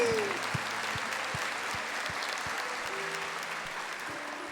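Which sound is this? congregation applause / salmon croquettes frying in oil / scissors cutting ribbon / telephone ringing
congregation applause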